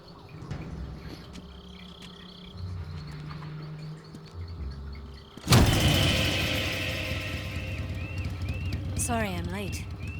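Vehicle engine idling and rumbling in the Metal Gear Solid 3 video game, coming in loudly and suddenly midway as a steady drone, with voices talking over it and earlier quieter game sounds.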